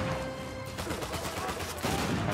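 Shotgun blasts and other gunfire crack loudly in an Uncharted 4 firefight, several close shots bunched over a couple of seconds amid game noise.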